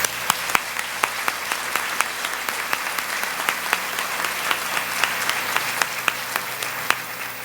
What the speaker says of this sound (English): Let's give all of our faculty awardees one more round of applause.